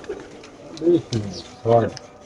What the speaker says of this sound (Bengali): এখানে কিছু পাকিস্তানি কবুতর আছে